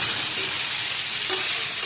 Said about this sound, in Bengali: একদম লাল লাল করে ফুলকপিগুলো ভাজতে হবে